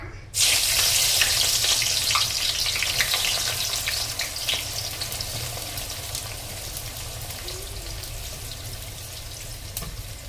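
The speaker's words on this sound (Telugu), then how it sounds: "ఆయిల్ హీట్ అయింది. ఇప్పుడు ఇందులో ఆనియన్స్ వేసుకున్నాం." Sliced onions dropped into hot oil for egg biryani, setting off a loud, steady sizzle that starts abruptly and carries on alone for about ten seconds.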